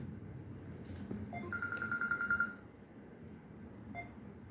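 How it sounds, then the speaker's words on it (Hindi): A telephone rings briefly in the middle of a Hindi spiritual talk: a short burst of bright electronic tone with clear, steady pitch, standing out over a constant low room rumble. No one speaks during it. "क्षमा कीजिएगा, एक फ़ोन बीच में आ गया"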